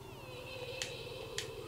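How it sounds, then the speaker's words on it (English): A cat meows in the DreadOut 2 horror game, a drawn-out tonal cry held under a low hum, with two brief sharp clicks breaking through. "You got a cat?"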